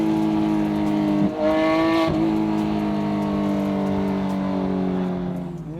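A high-revving Ferrari engine screams loudly and steadily toward its 9,000 RPM redline, pitch climbing as it accelerates, with brief dips between gear changes.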